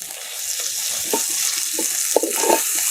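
Ginger garlic paste and mutton frying in hot oil for an Andhra village-style mutton curry, a steady broad sizzle with several short stirring scrapes and clicks, close and fairly loud, no voices.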